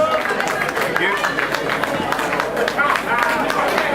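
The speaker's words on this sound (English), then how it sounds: "Give them a round of applause" An awards ceremony crowd applauds a maintenance company's outstanding contribution, dense steady clapping filling the hall with murmured voices and chatter mixed underneath throughout.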